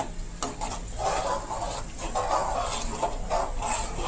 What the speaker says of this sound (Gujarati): બધું બરાબર મિક્સિંગ કરી લેશું.